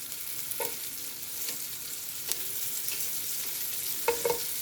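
Beef pieces browning in a hot pan for stew give a steady, close sizzle, with a few soft scrapes as they are rolled around.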